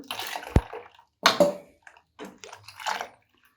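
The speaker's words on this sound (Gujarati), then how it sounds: "આપણે હવે આની અંદર જરૂર પૂરતું પાણી એડ કરી દઈશું" Water is added to a pot of boiled buttermilk and gram flour batter for Gujarati vatana kadhi, giving a few short, close splashing pours separated by brief pauses.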